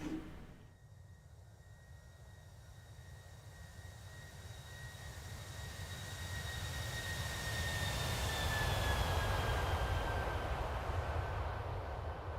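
Boeing 767 jet engines in an X-Plane simulator spool up to go-around thrust, a broad roar with a rising whine that swells steadily and stays loud, with no talking.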